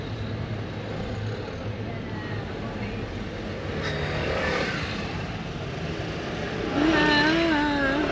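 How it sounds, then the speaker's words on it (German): Scooters weave through Italian street traffic, passing on both sides in a continuous broad engine rumble that swells into a louder nearby pass toward the end. "Alle fahren links und rechts mit dem Roller an dir vorbei."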